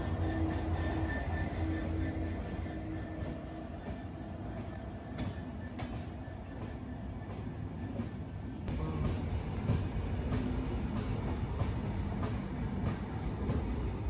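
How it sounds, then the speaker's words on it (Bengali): A Padma Express passenger train from Dhaka to Rajshahi rolls slowly through a station at night, giving a continuous rumbling drone with faint rhythmic wheel clatter and occasional clanks, swelling louder near the end. "আমাদের ট্রেনটাও খুব আস্তে আস্তে মানে স্টেশনটা পার হচ্ছে।"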